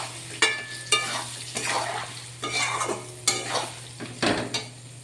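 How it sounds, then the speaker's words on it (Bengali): Mango pieces for a spicy mango pickle fry in oil as a spoon stirs them, with repeated scraping strokes at a steady rhythm over a continuous sizzle and hum, close up and with no voices. "এই আমটাকে একটু ভাজা ভাজা করে নিলে এই আচারটা রেডি।"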